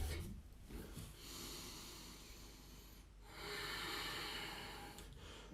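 Deep, steady breathing through the nose during a yoga power flow, long rushing inhales and exhales close to the microphone, with no talking.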